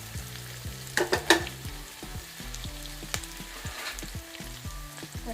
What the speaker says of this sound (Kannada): ಚೆನ್ನಾಗಿ ಫ್ರೈ ಮಾಡೋಣ. ಈರುಳ್ಳಿ ಫ್ರೈ ಆಗಿದೆ